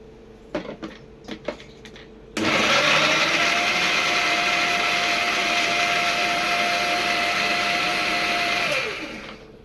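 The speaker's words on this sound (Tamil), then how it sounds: "கொஞ்சம் வெங்காயம் அரைச்சிக்கிறோம்" A kitchen mixer grinder blends tomato, coconut and onion. A few light clicks and knocks come first, then the motor whirs up into a loud, steady drone that holds for several seconds before winding down near the end.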